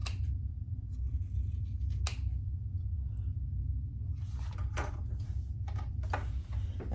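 Scissors snipping the corners of a thick denim lilac vinyl bag, giving a handful of sharp, close clicks and cuts scattered over a low steady room rumble, with no talking.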